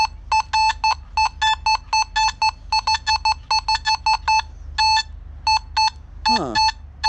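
Nokta Makro Simplex+ metal detector giving a rapid run of loud, clipped electronic beeps in irregular bursts, with a brief falling tone near the end.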